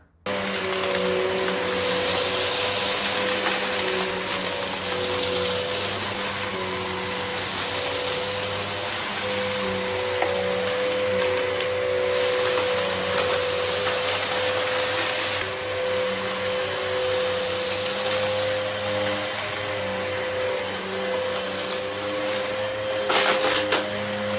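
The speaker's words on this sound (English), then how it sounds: "You can tell that the machine has lost suction by the motor sounding more laboured." A Samsung 1800W Twin Propel SU3355 vacuum cleaner, clogged and losing suction, runs continuously nearby with a strained, labored whine and steady droning hum, briefly dipping in pitch once or twice.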